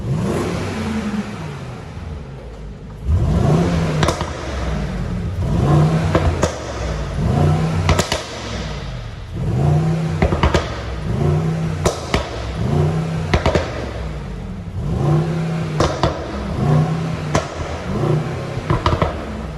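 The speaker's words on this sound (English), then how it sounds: "So let's start with the sound check, starting with Sport Plus now." A Mercedes-Benz GLE63 S Coupe in Sport Plus mode revs its engine repeatedly from outside, each loud rising roar falling back between blips, with sharp cracks at several rev peaks.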